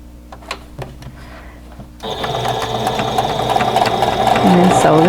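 A sewing machine stitches a quilt block seam, starting abruptly after a quiet moment with faint handling. It then runs as a continuous mechanical whir that gradually grows louder.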